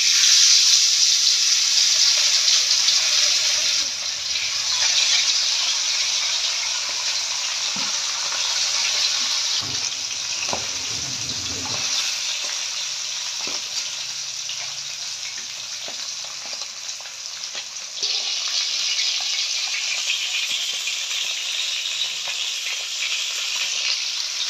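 Small puti fish frying one by one in hot mustard oil, a loud continuous hiss and crackle that holds steady for over twenty seconds, with occasional soft clinks of a utensil and no voices.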